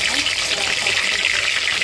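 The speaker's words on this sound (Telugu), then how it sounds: "ఆయిల్ కాగిందండి. ముందుగా ఉల్లిపాయలు వేసుకుందాం." Onions hit hot oil for a chicken curry and crackle in a steady, bright, close-up sizzle that runs the whole way through, with a voice talking over it.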